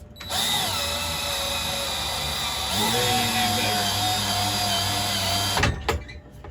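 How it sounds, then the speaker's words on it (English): A half-inch power drill driving a large screw whirs steadily at low speed, close and loud, its pitch dipping under load before stopping with a clunk. "So I put that same setup on my just 1/2 inch drill, and it worked a lot better"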